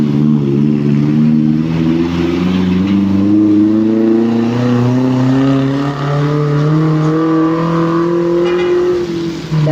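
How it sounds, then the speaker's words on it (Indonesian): Vehicles heading down the Sitinjau Lauik road toward Padang, with a loud, close engine droning and shifting pitch as it labours steadily along for the whole stretch. "Sudah ramai lagi nih kendaraan yang menuju Kota Padang."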